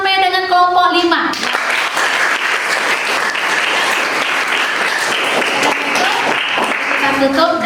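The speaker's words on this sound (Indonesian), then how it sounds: "kita berikan tepuk tangan sekali lagi untuk kelompok 1 sampai dengan kelompok 5." A class applauds five student groups at the end of a lesson: a loud, steady burst of clapping fills the middle, with a voice speaking just before it starts and again as it dies away.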